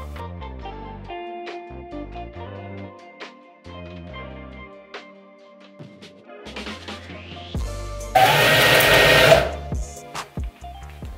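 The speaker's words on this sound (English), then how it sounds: "I get chills every time I put a piece of leather through this machine" TandyPro by Cobra NP-10 leather skiving machine runs with a loud burst of broadband whirring for about a second near the end, after quieter tonal passages and scattered clicks.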